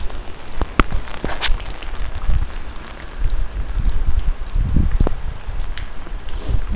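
Rain patters on a military-style poncho outdoors, a steady close rustling hiss with scattered louder drops and a few sharp taps, no voices.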